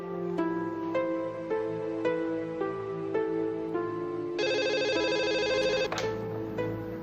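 A telephone rings repeatedly with a steady electronic ringtone pulse, then a brighter, buzzier ring tone takes over briefly before the pattern continues, clear and close with no talk.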